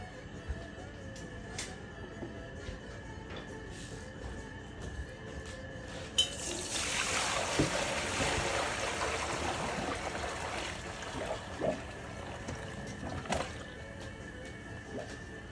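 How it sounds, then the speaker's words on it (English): Whey water draining down a kitchen sink after mozzarella curd making, a steady rushing trickle that swells partway through, with faint clinks of dishes around it. "Takes a minute for my sink to drain, so I'll just let that continue to drain off for a minute."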